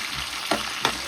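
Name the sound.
onions, curry leaves and pandan frying while stirred in pan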